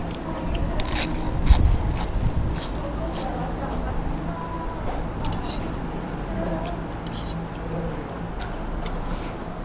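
Crispy Lao-style papaya salad bitten and chewed close to the mouth, crunching loudly at first and then settling into steady wet munching under a noisy eatery background.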